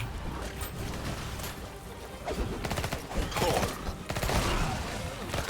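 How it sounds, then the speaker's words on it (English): Enemies blowing up in a bullet heaven FPS video game, a dense run of overlapping blasts and gunfire-like pops that stays loud and busy throughout, swelling toward the end. "So these guys, these bright green guys, explode."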